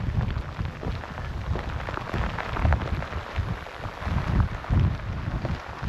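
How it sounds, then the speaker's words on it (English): Rain on an exposed fell walk in the Kentmere horseshoe hills, a steady broadband patter with gusty wind rumbling close to the microphone, loud and continuous without speech. "Oh, that's definitely rain now."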